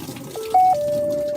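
Water runs steadily into a Maytag Bravos top-load washing machine, model MVWB835DW2, as it fills: a continuous close rushing flow with a faint steady hum and no talking.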